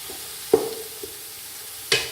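Carrot halwa being stirred in a pan: two distinct scraping, clattering strokes about a second and a half apart, with a faint soft knock between them over a quiet sizzling background.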